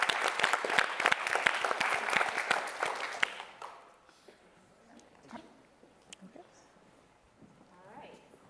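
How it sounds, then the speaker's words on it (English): Audience applause at the closing ceremony of Houston Energy and Climate Week, loud dense clapping for about three seconds that then stops abruptly, leaving a quiet room with a few stray claps and faint murmurs. "another round of applause to the students."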